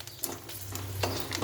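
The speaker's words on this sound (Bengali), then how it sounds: "ফোড়ন দিচ্ছি, লঙ্কা ফোড়ন দিচ্ছি, কাঁচা লঙ্কা।" Green chillies and five-spice tempering sizzling in hot oil for a bottle-gourd-greens dish, a soft, steady frying hiss with light stirring scrapes, fairly quiet and without talk.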